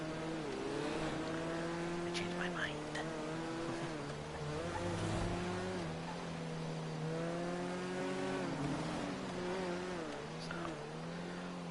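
Engine of a car driven in Grand Theft Auto V, a steady revving drone rising and falling through gear changes with occasional tyre squeals, running throughout while someone speaks briefly over it.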